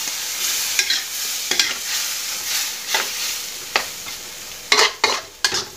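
Shrimp stir-fried with holy basil, ground pepper and a splash of water in a hot pan, continuous sizzle punctuated by repeated sharp spatula scrapes and clanks, louder toward the end, without talk.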